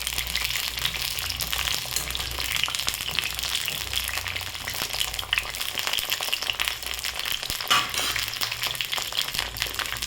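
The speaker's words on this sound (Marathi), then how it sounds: "तर हे वांगे फ्राय झालेले आहेत। हे बघा, असे छान फ्राय करून घ्यायचे।" Eggplant slices fry in hot oil in a pan for a spicy masala dish, giving a steady, dense crackling sizzle that runs unbroken and fairly close throughout, with no one speaking.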